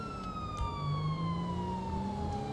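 A police siren wails in the GTA V LSPDFR police mod, one long steady tone sliding slowly downward like a pass-by, loud and clear over a low engine rumble.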